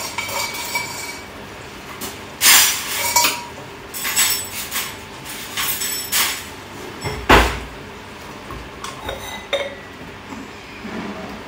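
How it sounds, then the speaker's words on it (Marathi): Dishes, pots and pans being put away in a home kitchen clink and clatter in a series of sharp metallic knocks and scrapes, fairly close, with no talking. "पण भांडी घेते लावून"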